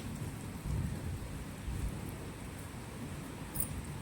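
Rain falling outdoors under dark clouds, with a steady wash of rainfall and low rumbling thunder swelling around the start and middle, heard alone at moderate level without voices.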